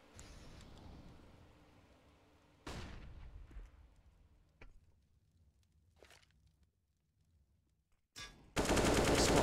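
Automatic rifle spray in a Counter-Strike match on the Cache map, several sharp bursts of gunfire separated by quiet gaps, then a loud sustained burst at the end, with no talk.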